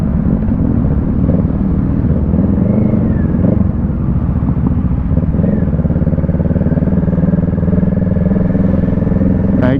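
Motorcycle engines drone continuously close by, a loud steady rumble with slight revving as the bikes move along.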